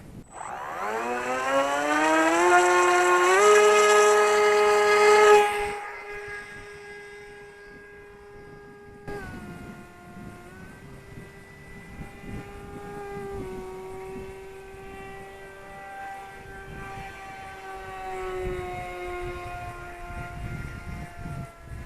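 A small electric motor on an Eachine Airloader 1280mm long-range FPV foam plane, flown in light wind, whines loudly as it throttles up, then drops back to a steadier, lower drone that rises and falls slightly with the throttle.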